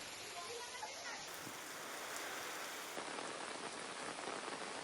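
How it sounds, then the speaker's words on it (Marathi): Heavy pre-monsoon rain falls in a steady, dense downpour, a loud continuous hiss that fills the whole clip with no pauses. "दुपारच्या सत्रात विजांच्या कडकडाटासह मुसळधार पाऊस कोसळला।"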